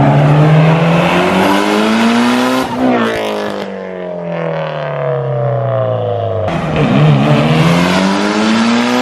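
A Mitsubishi Lancer Evolution VIII race car screams through the gears on a street, loud and close, its engine note climbing in repeated rising sweeps with sharp shifts between pulls.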